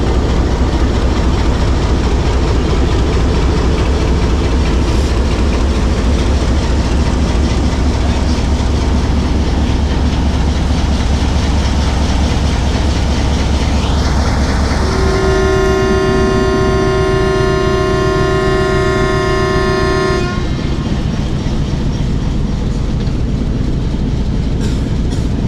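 The 267UP Rawalpindi Passenger train runs from Rawalpindi to Havelian in rain, a loud continuous rumble of carriages on track, with a sustained horn blast lasting several seconds partway through.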